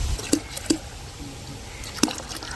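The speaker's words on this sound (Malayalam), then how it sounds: "അത് ഇതിൻ്റെ അകത്തോട്ട് ഒഴിച്ചിട്ട് നമുക്ക് നന്നായിട്ട് മിക്സ് ചെയ്ത്" Liquid cloth shampoo goes into a bucket of water and is mixed in, heard as three separate wet plops and squishes, close and spaced apart against a quiet background.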